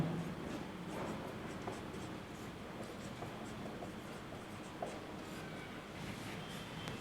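Scratchy writing strokes set down a definition of real numbers during a Class 10 mathematics lecture, soft and continuous over a low, even room background with no talking.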